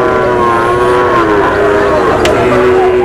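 Cattle lowing at Hazratpur cattle market, a busy livestock fair for heifer calves, with steady moos and crowd murmur layered over constant market noise.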